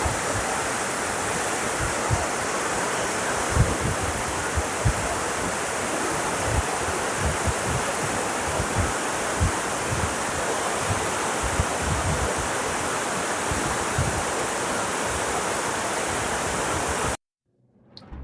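A river rushes along its bank just upstream of a waterfall in Serra da Bocaina National Park, Brazil, making a steady, loud broadband roar of flowing water that continues unbroken with no voices, then cuts off abruptly at the end.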